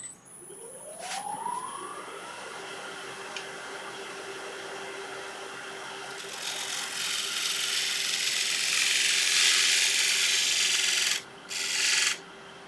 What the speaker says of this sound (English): I might just cut it a little bit with a spindle gouge